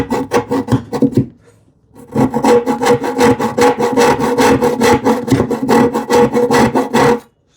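Hand saw cutting stop cuts into a wooden board, a close, loud rasping stroke rhythm, a brief start, a pause, then a long steady series of fast back-and-forth strokes.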